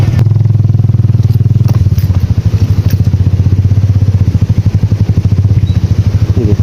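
A motorcycle rides along Kalam Road after heavy snowfall, its engine a loud, close, steady thumping pulse throughout with a brief clatter near the start.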